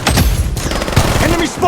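Rapid gunfire in the battle royale shooter Blood Strike, a loud, dense burst of overlapping shots and impacts that continues without pause, with a game voice calling out over it.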